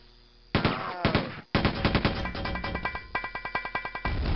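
Rapid gunfire from a weapon in Quake 2, sharp close shots in quick bursts that settle into a steady repeating rhythm of about a dozen evenly spaced rounds, with no talk.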